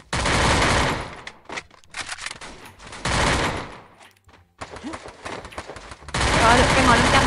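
Bursts of automatic gunfire in Garena Free Fire, loud rapid volleys separated by short pauses, with a voice talking briefly between them.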